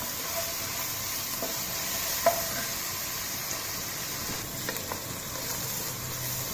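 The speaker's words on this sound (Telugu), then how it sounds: "ఇక్కడ ఉల్లిపాయలు హై ఫ్లేమ్ మీద పెట్టాను, ఇవి వేగుతూ ఉంటాయి." Onions fry on a high flame for prawn biryani, a soft, even sizzle with a few faint stirring clicks, heard alone without talk.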